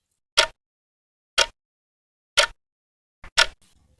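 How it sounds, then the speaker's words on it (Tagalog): Sharp, evenly spaced clicks land about once per second, isolated against silence, like a clock ticking nearby. "o ang tik-tak ng orasan"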